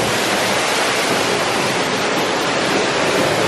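A waterfall at Animal Kingdom in Disney World, a loud, close and steady rushing roar of falling water that stays even from start to finish with no voices.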